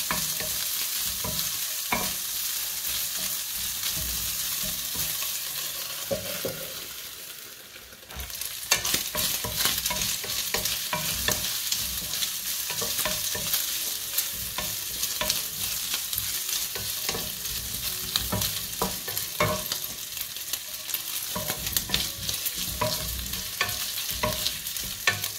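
Keto carbonara ingredients sizzle and crackle in a frying pan, a steady close-up hiss with scattered pops and occasional stirring scrapes, and no talking.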